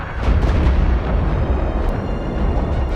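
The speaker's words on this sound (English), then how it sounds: "within a minute we'll have 100 rounds of artillery into that area" Artillery rounds explode in a dense, continuous barrage, with deep rumbling booms and sharp blasts overlapping into a loud, roaring wall of noise.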